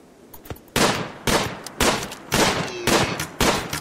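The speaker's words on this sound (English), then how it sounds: "I didn't want them shooting Coth." Gunfire in the video game RimWorld comes as a string of loud, sharp bursts roughly every half second, close and punchy, with no talk over it.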